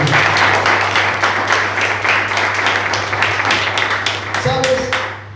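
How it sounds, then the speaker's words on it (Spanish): A church congregation claps for the Lord during a Spanish-language sermon, a dense, even round of applause near and loud, thinning out toward the end as a voice and a low hum come through. "Denle un aplauso al Señor, hermano."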